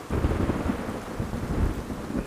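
Rain pours steadily with a low rumbling thunder underneath in the Raider Six battle royale game. The storm ambience is dense and constant and has no talk over it.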